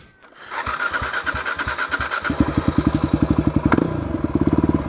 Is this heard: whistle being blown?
no